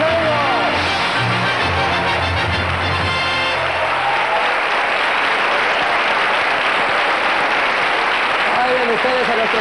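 Guests in a Spanish TV game show studio applaud loudly and continuously after a correct answer, a thick roar of clapping that runs the whole length, with a presenter's voice over it and brief music at the start.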